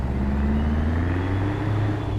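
Scania R4 truck engine in American Truck Simulator pulling under throttle, a steady deep diesel drone with a slowly rising tone, close and loud throughout, no talk.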